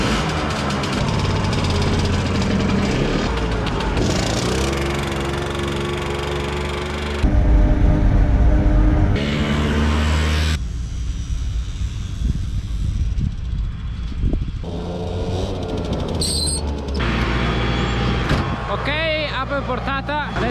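A tractor pulling a seed drill across a field runs with a steady engine drone, loud and close, with people talking over it.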